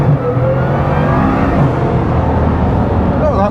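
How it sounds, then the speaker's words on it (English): A 2021 Bugatti Chiron Pur Sport accelerates hard from a standing start on a public road. A loud, dense engine roar and whir build continuously from inside the car, with a voice briefly audible over it. "Let's do a quick standing start"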